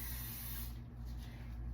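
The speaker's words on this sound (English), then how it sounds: "Let me just spray this real quick." A spray bottle gives one short, soft spritz of hissing mist at close range, which quickly dies away into a quiet room.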